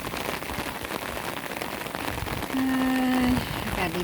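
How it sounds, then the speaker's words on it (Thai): Steady rain patters on surfaces nearby, a dense continuous hiss, joined near the end by a brief tonal hum. "อะไรคลิปฝนตกมาฝากเพื่อนๆหน้าบรรยากาศดีมากเลย"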